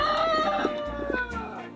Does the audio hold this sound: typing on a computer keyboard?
no